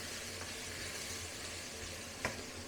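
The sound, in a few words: merguez sausages frying in a pan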